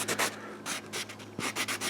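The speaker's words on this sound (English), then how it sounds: "I'm using I think this is a 250 grit sanding sponge" Close, rhythmic scratchy rubbing of hand sanding a painted prop with a 250 grit sanding sponge, short back-and-forth strokes repeating in quick succession over a low steady hum.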